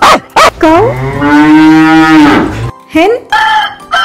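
A cow moos loudly and at length, a deep drawn-out call, followed by a couple of shorter grunting calls near the end.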